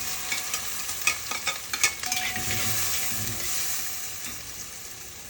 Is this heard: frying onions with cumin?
yes